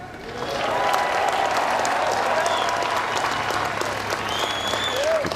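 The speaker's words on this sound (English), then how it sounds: "Feel the buildup, the applause for Mickelson in his 23rd U.S. Open start." A large outdoor golf crowd at the 2013 U.S. Open claps and cheers steadily, a sustained wash of applause with a few whistles rising near the end.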